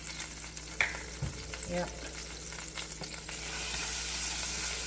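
Flour frying in leftover grease in a skillet for an Amish cheesy casserole, with crackling sizzle and scraping stirs that grow into a steadier hiss, while a voice briefly speaks.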